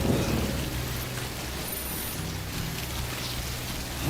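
Steady rain in the video game Death Stranding, an even, continuous hiss of falling water with a low rumbling undertone, constant in level and with no voices.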